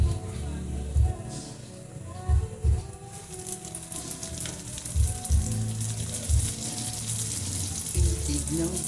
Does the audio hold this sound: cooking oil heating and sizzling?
yes